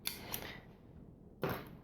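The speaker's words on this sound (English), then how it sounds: "The easiest way to do this, use your kitchen scissors." Cutco kitchen scissors snip through top round steak, a few short crisp cuts close by and quiet, with a pause before a final stronger snip.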